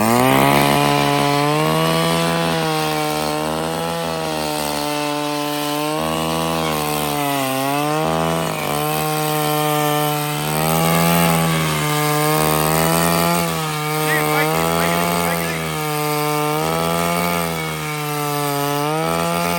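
A loud engine-driven ice auger drones steadily for the whole stretch, its motor pitch rising and dipping repeatedly as it bores through a frozen lake in Alaska.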